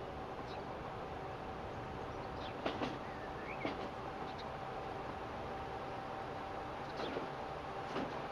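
A train runs in the Transport Fever 2 simulation game, a steady, even rolling rumble with a few faint clicks and clacks scattered across it.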